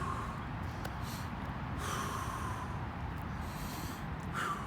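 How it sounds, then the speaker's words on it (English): Deep breaths during at-home leg and ab workout recovery, a few slow inhales and exhales rising and falling close to the microphone over a steady background hiss. "those are nice deep breaths to get oxygen in the body"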